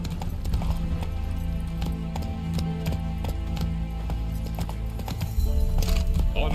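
Roach the horse gallops in Witcher 3, hooves pounding in a fast rhythm under game music and ambient noise, growing louder near the end.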